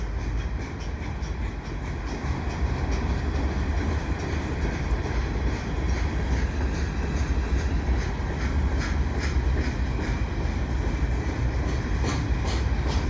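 Quebec North Shore and Labrador rebuilt AC4400CW locomotives rolling past with a winter train at Valois, a steady loud rumble of wheels and cars passing close by throughout.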